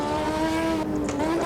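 A Brabham BT52 race car's engine at Kyalami in Automobilista 2 holds a high, steady whine with slight rises and dips as the throttle is feathered through a corner, loud and close, without speech.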